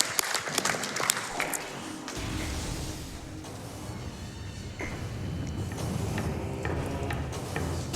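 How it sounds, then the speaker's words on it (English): An audience at a Metroid Prime speedrun event applauds steadily for several seconds, a dense wash of clapping with a few sharper claps at the start. "I'll clap for that one."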